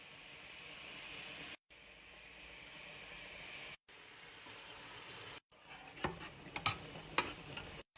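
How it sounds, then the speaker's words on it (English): Mushrooms fry in a pan with a steady hiss, broken by brief gaps, then sharper crackles and pops toward the end, close and fairly quiet. "I'm going to go ahead and cook my mushrooms."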